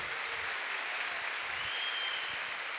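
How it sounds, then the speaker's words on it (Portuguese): Steady applause from a church audience at a Catholic priest's talk, dense clapping that fills the whole stretch at an even level without a break. "Pode aplaudir a ela, a Virgem Maria"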